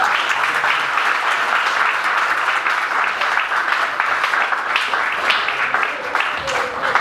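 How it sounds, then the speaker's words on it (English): Steady round of applause for a guest speaker at an Executive MBA masterclass, a dense, even wash of hand claps from a seated audience lasting the whole stretch, with faint murmurs beneath. "we need to give Mr."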